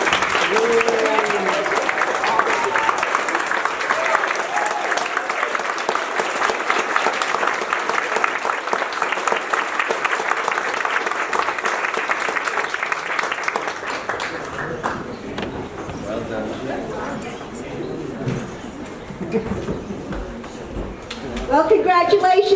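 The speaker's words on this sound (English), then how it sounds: "let's give another round of applause" Audience at the CAL Awards 2022 ceremony applauds its finalists and winners, a thick sustained wave of clapping that lasts about fourteen seconds before thinning out as a voice begins speaking over the fading claps.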